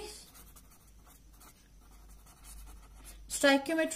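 Pen or marker writing during a chemistry stoichiometry lecture, with faint scratchy strokes in quiet room tone before a voice begins speaking near the end.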